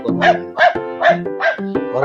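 Dogs barking on a hillside hiking stop, five loud close barks in a steady rhythm, each with a bright yelping edge and tonal ring.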